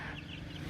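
Chickens cluck softly at home in a brief, faint burst of low, throaty fowl calls against a quiet background.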